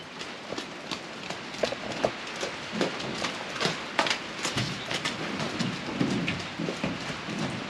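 Several horses walking on a hard surface, their hooves clip-clopping in a steady, uneven rhythm close by, with no talking.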